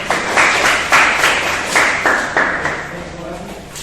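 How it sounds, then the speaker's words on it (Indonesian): A classroom group claps for a presenting team, a loud and close patter of many hands that comes in pulsing waves and then thins out toward the end. "kita beri aplaus ya kelompok kita"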